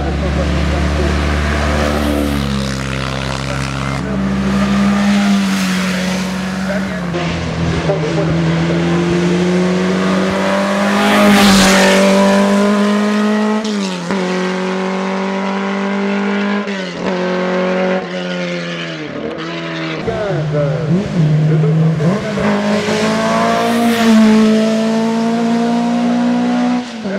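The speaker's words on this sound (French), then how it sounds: "une autre Formule 1 qui vient de passer la ligne" Formula 1 and formula racing cars, including a Honda-engined formula car, passing at the Marchairuz hill climb race; loud continuous engine roar with rising and falling pitch as cars pass, and a commentator talking over it throughout.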